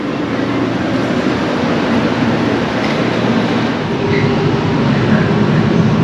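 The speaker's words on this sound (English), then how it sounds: "And there's my train waiting for me." Steady rumbling hum of a train idling at a station, constant low drone with faint background noise, no talking.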